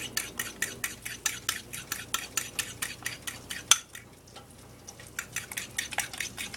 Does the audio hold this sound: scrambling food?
yes